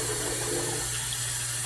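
Water pours steadily from a tap while a face is rinsed after shaving, a close, continuous splashing rush that lasts the whole brief moment with no voices.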